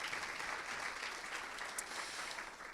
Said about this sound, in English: So one more round of applause for our fantastic panel.